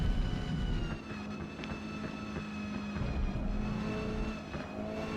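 A small Lancia Delta racing around the Catalunya circuit in the Forza Motorsport game, its engine holding a steady droning tone with slight rises and dips in pitch, moderately loud and continuous without talk.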